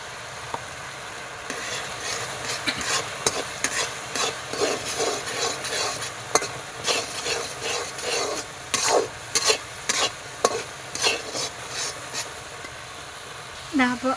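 Semolina being stirred into a cooking banana mixture in a pan for banana kurukku, giving repeated scraping and stirring strokes with a soft sizzle underneath, steady and close throughout.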